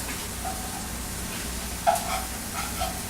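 Sausages sizzle in a frying pan with a steady, even hiss, broken by a brief scrape and clink near the middle as they are turned over.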